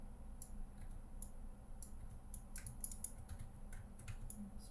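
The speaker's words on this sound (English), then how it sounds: "I'm just rotating, clicking Control D to dupe" Keyboard shortcut clicks, Control D pressed to duplicate objects in 3D software: a steady run of light, close taps and clicks over a low hum, with no talking.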